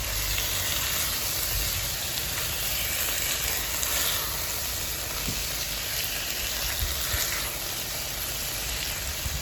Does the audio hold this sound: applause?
no